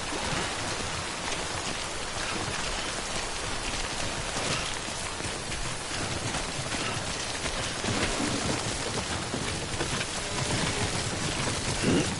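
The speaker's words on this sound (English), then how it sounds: "Don't stay out in the rain any longer than you have to." Steady timefall rain pours throughout in the Death Stranding video game, a dense, even hiss of drops on surfaces, close and continuous with no voices.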